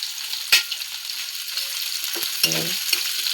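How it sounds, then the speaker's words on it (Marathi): Chopped onion sizzles steadily in hot oil with mustard seeds and cumin, a loud, close, continuous hiss broken by a few clinks and scrapes of a spoon stirring the pan. "आता कांदा सोडलेली आहे कांदा सोडते"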